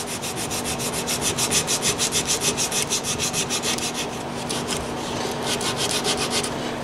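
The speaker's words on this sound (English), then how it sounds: "I'll start off with some rather aggressive sanding." Aggressive hand sanding of wooden neck shims during a neck reset on a Gibson Hummingbird acoustic guitar: rapid, rhythmic back-and-forth rasping strokes, close and steady, stronger in the first half.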